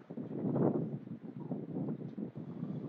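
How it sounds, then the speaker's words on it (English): Steady wind gusting across an outdoor softball field during a high school game, a broad rushing roar with buffeting on the microphone that swells and eases throughout, no voices standing out. "Windy day, and this wind's coming now the southwest"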